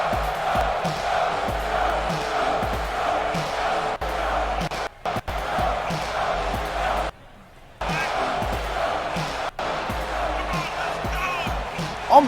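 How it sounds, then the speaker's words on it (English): A loud crowd roars and cheers continuously in a wrestling video game, with whoops and shouts rising over the din and a brief drop-out partway through. "Listen to that crowd."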